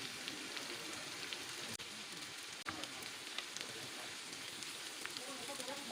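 Liver with chopped green chilies fries in three tablespoons of oil, a soft continuous crackling sizzle with a few sharp pops, steady and fairly faint throughout.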